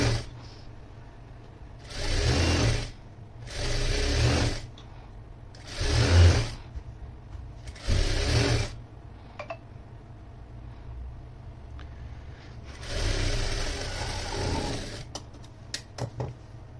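A sewing machine stitches the lining of an anarkali frock in several short bursts of motor whirring, each lasting about a second, separated by quiet pauses and ending in a longer run, close and clear with no voices.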